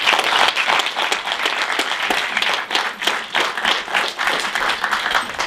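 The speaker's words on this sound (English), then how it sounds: "So let's give a massive round of applause." An audience at a talk bursts into sustained, dense applause, loud and continuous for several seconds with many hands clapping at once.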